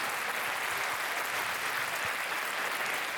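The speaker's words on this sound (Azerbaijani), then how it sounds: "Ataşı da alqışlayaq." An audience at an opening event claps continuously, a dense, even wash of applause that holds steady from start to finish with no voices standing out.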